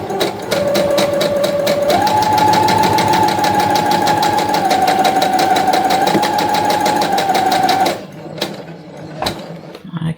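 Sewing machine stitching a fabric shopping bag holder, a fast rapid-fire needle clatter with a whining motor tone that shifts pitch slightly, running steadily for about eight seconds before stopping, followed by a few faint handling clicks.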